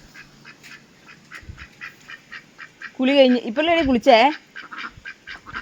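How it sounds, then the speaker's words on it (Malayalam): A young goose quacking after its bath, a few loud close calls in quick succession with a person talking softly before and after. "വാത്തുക്കുട്ടി കുളിയൊക്കെ കഴിഞ്ഞ്"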